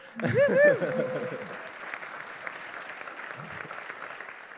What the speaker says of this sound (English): we can all clap for this